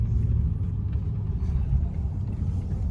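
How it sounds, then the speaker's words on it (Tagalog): Road traffic near a shopping mall in Calgary makes a continuous, moderately distant low rumble of passing vehicles. "Traffic."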